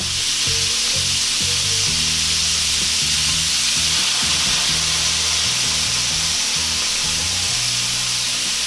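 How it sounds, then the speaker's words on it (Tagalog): Chicken frying with soy sauce in a hot pan, a loud, continuous sizzle and hiss throughout, with low, intermittent scraping and stirring underneath. "Ngayon ay lalagyan na po natin siya ng toyo."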